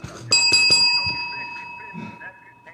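A small bicycle-style bell rings sharply several times in quick succession, then its clear tone fades slowly while voices talk quietly underneath.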